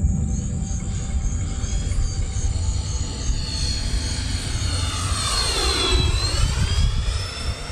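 A heavy radio-controlled F-14 model jet flies overhead outdoors, its loud engine whine holding steady and then swooping in pitch as it makes a close pass.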